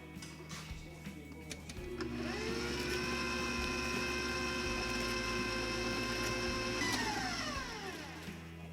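An electric hand mixer whirs steadily through banana bread batter, starting up around two seconds in, holding a strong, even motor drone with slight pitch shifts, then winding down near the end, close and loud.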